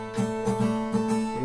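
An acoustic guitar plays a fingerstyle passage with the third string left ringing, giving several plucked chords in quick succession with sustained, overlapping tones, close and clear.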